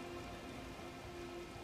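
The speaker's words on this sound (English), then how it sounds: "Let's honor the rain." Rain falls in Elden Ring's Eastern Tableland, a faint, even hiss of drops on surfaces that holds steady without pause, with a soft tonal drone beneath.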